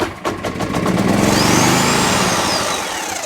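A Homelite HG600 Lightning Bug generator's small engine catches after a pull-start. It sputters, then settles into a loud, close, revving drone that rises and eases off over a few seconds.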